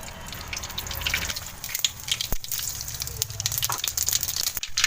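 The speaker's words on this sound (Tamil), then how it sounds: "இப்போ கடாயில் நல்லா எண்ணெய் சேர்த்துக்கலாம்" Oil poured into a hot kadai for an egg masala curry crackles and sizzles steadily, with a hissing, splashing texture and scattered sharp pops throughout.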